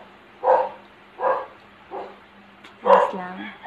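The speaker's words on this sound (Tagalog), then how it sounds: "Oh my God, ang aso natin." A household dog barks four times indoors, evenly spaced about a second apart, close by and moderately loud over a quiet, humming room.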